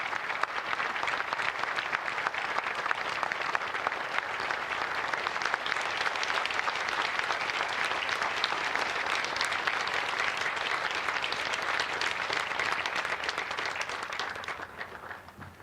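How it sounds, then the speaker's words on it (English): Sustained audience applause at a Pearl Harbor Remembrance Day ceremony, a dense, steady wash of clapping from a large crowd that holds for about fifteen seconds before tapering off. "a huge round of applause for Riptide Ripple"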